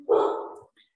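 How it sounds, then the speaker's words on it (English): A dog barks once indoors, a single loud, close bark that trails off quickly, with a faint voice in the background. "My dog is yelling."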